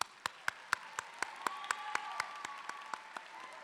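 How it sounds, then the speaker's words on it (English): Applause for graduates at a spring university commencement ceremony, heard as a faint, distant crowd clapping wash with a distinct set of evenly spaced sharp claps punctuating it in a steady rhythm. "Let's give these outstanding graduates another round of applause"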